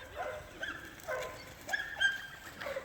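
Twelve-week-old Portuguese Water Dog pups whimper and yip in short, faint bursts, several thin cries scattered across a quiet indoor background.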